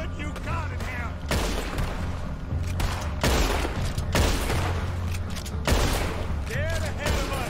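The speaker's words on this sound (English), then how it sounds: "Put every bullet you got in here." Gunfire rings out in Red Dead Redemption 2, loud separate shots cracking at irregular intervals with echoing tails over a rumbling background, while people talk in the clip.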